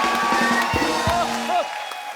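A studio audience at a Hindi comedy show claps in a steady burst of applause, loud and close, mixed with some crowd noise and a voice.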